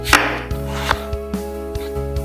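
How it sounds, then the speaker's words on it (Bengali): Peeled potatoes are sliced into French fry strips on a cutting board: a fast knife stroke, then a steady run of separate chops, close and crisp. "আলুগুলোকে ছাল ছুলে তুমি ফ্রেঞ্চ ফ্রাইয়ের মডেল করে কেটে নিবে।"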